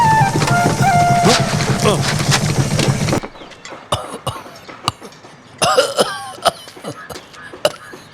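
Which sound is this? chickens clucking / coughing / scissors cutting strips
coughing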